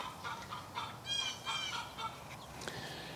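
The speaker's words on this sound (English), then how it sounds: "Can y'all hear that, chicken?" Several short clucks and squawks from a backyard chicken, fairly faint and spaced irregularly over a few seconds against quiet outdoor background, no speech.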